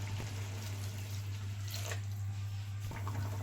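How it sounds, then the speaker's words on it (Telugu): Water from a cup poured into a pan of methi egg curry, a steady running splash with a low constant hum underneath throughout. "ఇప్పుడు దీంట్లో 1 కప్పు వాటర్ పోసుకుందాం."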